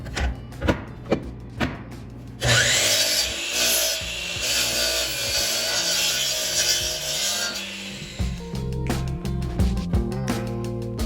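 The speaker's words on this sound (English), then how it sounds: "After planing, we're going to take it over the chop saw to clean up the end grain." A chop saw cuts across the end grain of a wooden cutting board, spinning up after a few knocks and whining loudly through the wood for about six seconds, then winding down amid scattered taps and clunks.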